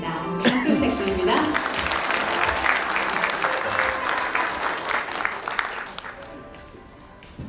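Sustained applause from the audience at a Korean records and documentation awards ceremony, loud and steady for several seconds before thinning out toward the end, with no voice heard over it.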